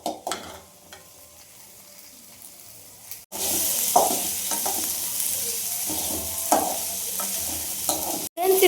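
Onions sautéing over high heat, a quiet crackle that jumps into a loud, continuous hiss and sizzle with occasional stirring scrapes, close to the pan, with a brief cut near the end and no talking.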